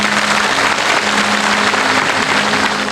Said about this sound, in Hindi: अब देखो, ये ताली बजानी हो ना तो जोर से बजाया करो,